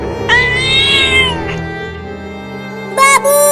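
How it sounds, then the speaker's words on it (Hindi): A big cartoon cat in an animated story lets out a loud, drawn-out yowl, followed after a pause by a shorter, sharper meow, both close and clear against a quiet background hum. "वहाँ पर एक बड़ी बिल्ली चिल्ला रही है"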